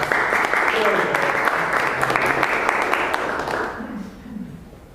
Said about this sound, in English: please welcome him from a huge round of applause